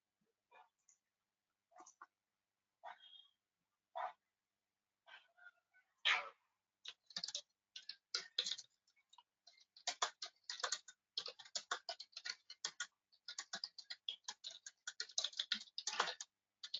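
Typing on a computer keyboard, sparse isolated key clicks at first that build into quick irregular bursts of tapping, quiet and close with no talking.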